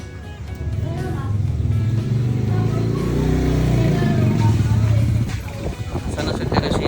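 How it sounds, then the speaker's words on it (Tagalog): A new motorcycle's engine runs nearby with a low, rumbling drone that swells and eases, while people talk over it. "Yan na din yung bago mong motor."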